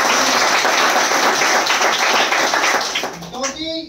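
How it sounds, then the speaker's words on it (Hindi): Enthusiastic audience applause honoring two gurus at an event, loud dense clapping from a crowd throughout, fading near the end as a voice and a few tonal sounds emerge. "हमारे ग्रेट गुरु दिनेश शर्मा जी और प्रेम प्रकाश जी के लिए जोरदार ताली"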